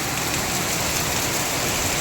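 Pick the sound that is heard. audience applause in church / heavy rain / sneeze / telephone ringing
heavy rain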